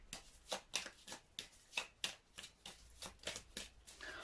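A deck of tarot-style cards is shuffled in a quiet room, a close series of soft riffling swishes and taps arriving in an uneven rhythm about every half second, with no one speaking.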